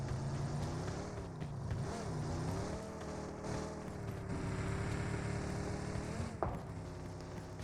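A car in the PUBG Mobile video game drives past as a steady, faint engine drone with a slight rise and fall in pitch, heard alone.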